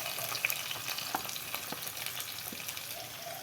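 Onions and garlic fry in a pan for pav bhaji, giving a continuous close sizzle dotted with small pops and crackles, with no talking.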